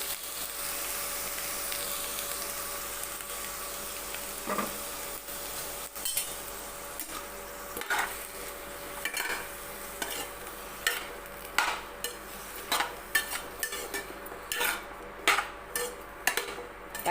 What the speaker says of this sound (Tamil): தக்காளி வெங்காயமெல்லாம் நல்லா வதங்கணும்